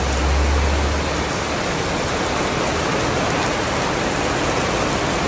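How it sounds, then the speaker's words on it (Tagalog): Heavy rain pours down in a dense, unbroken roar of hiss and spatter, loud and steady throughout with no voices. "Ang lakas ng ulan."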